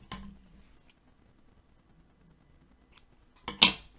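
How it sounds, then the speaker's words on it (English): A pair of scissors snips blue yarn during temperature-blanket knitting and crochet work, a faint early click followed by one crisp, close snip near the end, with quiet between. "So I'm going to snip my blue."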